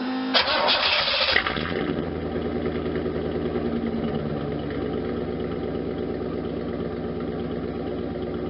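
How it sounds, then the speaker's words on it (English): A Z28 Camaro with its muffler removed cranks and fires up loudly, then settles into a rough, rumbling idle that carries on steadily. "let's do a video and see how it sounds without any muffler."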